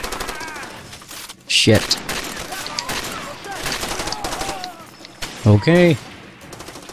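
In the video game Far Cry 2, rapid gunfire rattles through steadily, with two louder bursts standing out. Someone talks and swears over the shooting.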